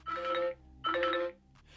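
Two short electronic chime tones from a Hotwav Cyber 13 Pro smartphone speaker as the volume is adjusted, each lasting about half a second, clear and close with a faint click at the end.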